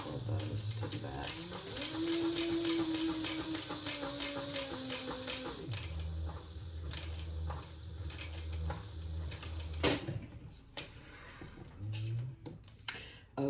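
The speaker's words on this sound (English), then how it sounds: "I'm just sewing between those dots" A sewing machine stitching a cork wallet, its needle running in quick, even mechanical bursts broken by short pauses, close and fairly quiet, with a hum underneath.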